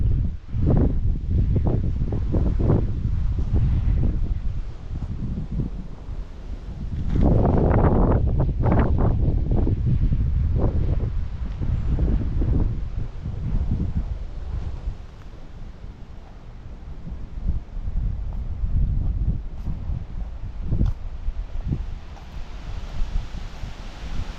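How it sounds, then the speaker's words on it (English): Strong outdoor wind gusts hard against the microphone, making loud buffeting rumbles that rise and fall in waves, with rustling between the gusts. "This wind is definitely not normal. It has been gusting like this all since early this morning."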